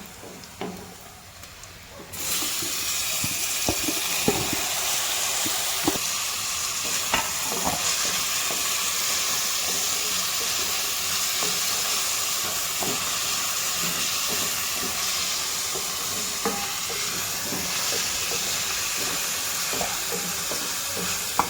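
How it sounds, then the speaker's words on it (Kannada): Onions and tomato frying over a low flame in a pan, a steady close sizzle and hiss with intermittent scraping stir strokes throughout, with no talking. "ಲೋ ಫ್ಲೇಮಲ್ಲಿಟ್ಟು ಫ್ರೈ ಮಾಡ್ಕೊಳ್ಳಿ ನೋಡಿ ಈಗ ಈರುಳ್ಳಿ ಬ್ರೌನ್ ಕಲರ್ ಬಂತು"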